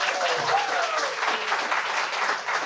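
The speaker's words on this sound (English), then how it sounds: "I thought we were going to hold the applause" Sustained applause fills a city council meeting in Cleveland Heights after a public comment, steady and fairly loud throughout, with a brief voice faintly underneath early on.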